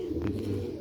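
Sialkoti pigeons give a soft, low coo close by, a brief throaty murmur with no talk over it.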